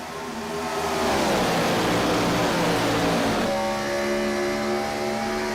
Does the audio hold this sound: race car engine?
yes